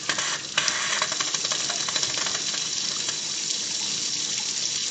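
Water rushes steadily through a double check valve backflow test assembly being flushed, with air in the line adding sputtering and hissing to the continuous loud gush.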